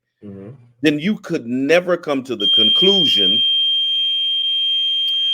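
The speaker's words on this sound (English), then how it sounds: "That's a fire alarm going on in here." A hotel fire alarm sounds loudly and continuously with a steady high-pitched tone, starting just after someone speaks and droning on alone to the end.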